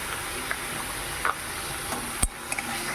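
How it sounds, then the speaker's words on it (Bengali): Spices with salt and turmeric being stirred and fried in a hot pan, a continuous close sizzle with a few soft scraping clicks from the spoon. "ভালো করে কষে নেব।"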